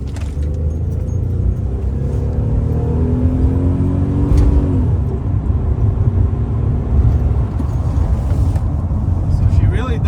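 A 2005 Chevy Impala 9C1 police car with the 3800 engine pulling hard, a loud deep roar heard from inside whose pitch rises steadily before an upshift, with a voice talking over it.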